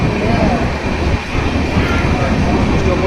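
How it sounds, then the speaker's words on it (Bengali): A train pulling out of Puri station gives a steady, close, broadband rumble of rolling carriages that barely changes from start to finish. "ট্রেন ছেড়ে দিল পুরী থেকে"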